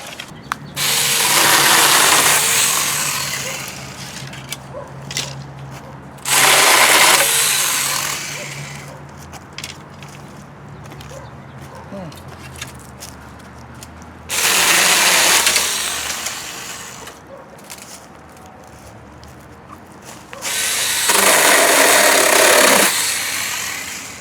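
A cordless mini chainsaw cuts through trimmings in four loud, separate bursts of high, buzzing whine, with quieter pauses between them.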